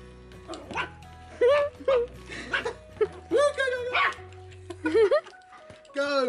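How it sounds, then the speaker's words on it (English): A dog barks and yips in short, agitated bursts near the microphone, some of them whiny, while a person speaks between and over the barks. "Arch, no barking."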